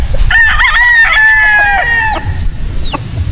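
A white Kelso gamefowl rooster crows once, loud and close, in a long ringing call that wavers before breaking off. A short, fainter squawk follows over a low rumble of background noise.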